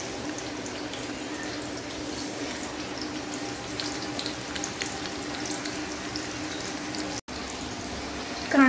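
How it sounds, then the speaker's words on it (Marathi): Sliced onions fry in hot oil in a home kitchen, a steady close sizzle and crackle that runs continuously, briefly cutting out near the end. "कांदा फ्राय करायला ठेवला आहे"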